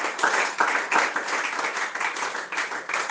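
Congregation in a church applauding the Lord: dense, steady clapping from many hands that fills the room for a few seconds, with faint cheering mixed in.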